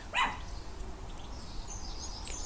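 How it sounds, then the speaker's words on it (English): A small dog next door gives a single short yap, faint and distant, on a quiet morning with light outdoor ambience and a few faint bird chirps. "You can hear the little dog next door yapping"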